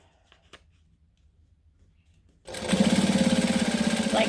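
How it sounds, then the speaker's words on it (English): A sewing machine top-stitches a handmade wallet 1/8 inch from the seam, starting after a quiet pause with a steady, fast mechanical whir of needle strokes, close and loud. "we're going to top stitch along 1/8 of an inch"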